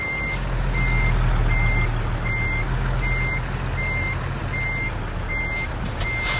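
A truck in the American Truck Simulator game backs up with a regular series of reversing beeps over a loud, constant low engine drone, with no one talking.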